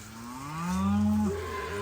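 A cow on a farm pasture gives a single long, loud moo that swells and falls over about a second, with no talk around it.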